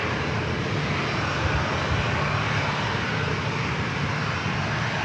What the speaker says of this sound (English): Next arrival is Southwest Airlines flight 760 coming in from Phoenix